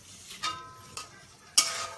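Onions fry in mustard oil in a pan while a spatula stirs them, giving three sharp scraping strokes over a faint, low sizzle, quiet and close.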